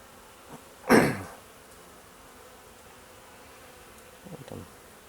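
Honey bees buzz close by around an apiary hive in brief bursts: one loud, near buzz early on, then a fainter pass near the end, with quiet between.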